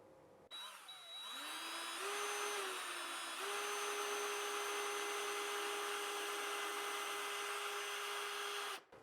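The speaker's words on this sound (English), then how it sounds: "we got our like pilot hole drilled" A power drill boring a 7/64 pilot hole, revving up and holding a steady loud whine for several seconds before cutting off, with no talking over it.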